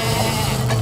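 A brief cartoon sheep bleat, a short wavering tone sounding over steady background music and noise.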